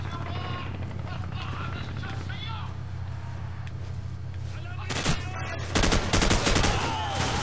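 Gunfire from Call of Duty: Modern Warfare, with scattered shots and bursts that grow louder and denser toward the end, mixed with game effects and a voice speaking.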